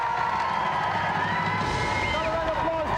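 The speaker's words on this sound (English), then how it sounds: "round of applause, Jason Pickford." A studio audience claps and cheers for a contestant on a video game show, a loud continuous crowd roar with whoops and shouts, while a voice talks over it.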